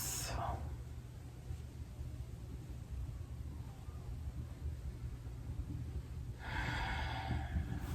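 A deep breath during pranayama yoga, a soft airy exhale at the start and a fuller audible breath near the end, separated by quiet room hiss.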